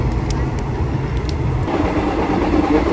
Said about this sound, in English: The train is a very old one